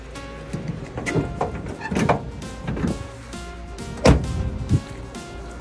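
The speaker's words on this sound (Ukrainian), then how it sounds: "Закриваємо кришку кузова і автоматично блокується механічно задній борт." Pickup bed cover on a Mitsubishi L200 being shut, with a series of knocks and clunks as the lid closes and the tailgate lock engages mechanically, the loudest thud near the end, up close and without talk.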